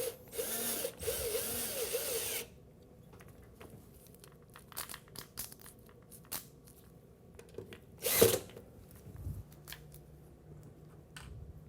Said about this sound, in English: we're gonna go ahead and start by screwing each screw back into place